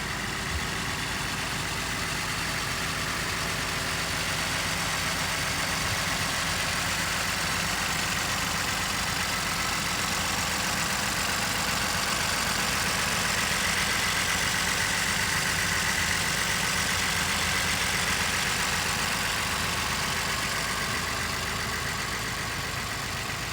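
A 2020 Ford Transit 350 box truck's 3.5-liter V6 engine idles steadily for a long stretch, a constant even drone with faint mechanical whir and no talking.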